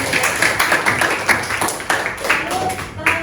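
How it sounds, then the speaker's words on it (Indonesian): Students in a classroom clapping their hands, an uneven patter of claps lasting a few seconds with some voices mixed in, moderately loud and close. "Tepuk tangan."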